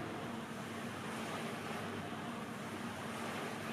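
Paddles in a model test basin push water into waves, producing a steady, broad wash of sloshing and surf-like rumble, continuous and fairly even, with no talk over it.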